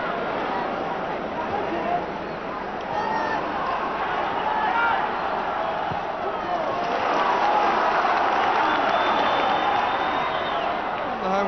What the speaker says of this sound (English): The home crowd are loving this.